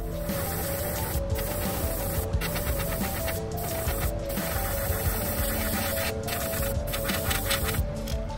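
Airbrush spraying Createx Detail Orange paint onto a custom crankbait lure, a steady continuous hiss at close range with brief breaks in the airflow, no talking.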